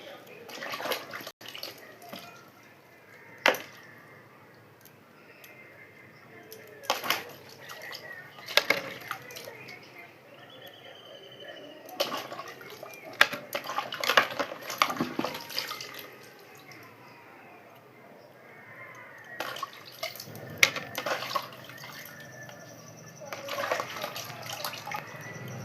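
Mushrooms being washed under a running tap, with splashing water and bursts of rinsing and handling noise that come and go over a low, quiet background.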